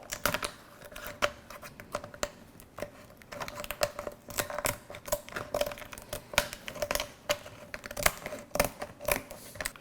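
Kitchen scissors snip along the top of a large lobster tail shell, giving a series of crisp, crunchy clicks and cracks in an irregular rhythm, close up and alone.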